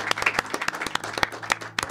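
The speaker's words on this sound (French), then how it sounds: "applaudissez mon Mohamed" Studio audience at a live podcast show applauding, a thinner group of hands with distinct individual claps in an uneven rhythm, close and moderately loud.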